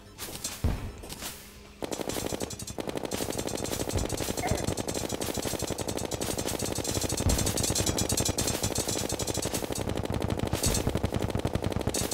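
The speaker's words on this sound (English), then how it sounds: "I'm shooting at the floor" Rapid automatic gunfire in the video game Terraria, a dense, loud, machine-gun-like stream of shots after a brief opening, continuing steadily to the end.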